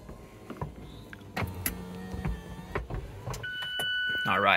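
The retractable hardtop of a Mazda MX5 ND2 RF closes with a whirring motor drone, mechanical clunks and latching knocks, ending in a steady electronic tone, heard close up inside the car.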